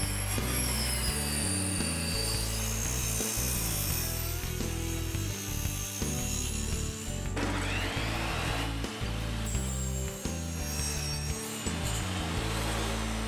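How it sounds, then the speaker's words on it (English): A power saw tilted at 45 degrees rips through wood to make French cleats, a loud continuous whining cut with shifting pitch and a brief break midway, nearby and alone. "we've got our saw tilted at 45-degree angle to cut these French cleats."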